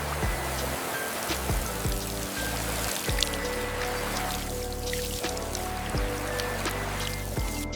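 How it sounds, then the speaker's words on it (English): Pressurised water spray blasts thick grime and mud off a 1974 BMW R90S motorcycle in silver smoke paint, a steady loud hiss and splatter running throughout with a few brief dips. "Watch closely as the thick grime is effortlessly blasted away"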